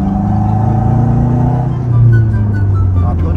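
Car engine roaring with the windows down, a steady loud low rumble that swells briefly as the engine revs, heard from inside the cabin.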